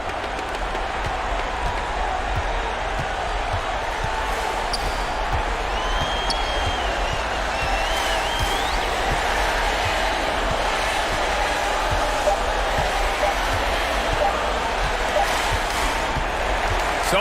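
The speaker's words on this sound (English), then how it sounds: "the home crowd happy here as they get the victory" Home crowd in an NBA 2K21 simulated 1964/1965 season game cheering and applauding a victory, a dense sustained roar of clapping and crowd noise with faint talk over it.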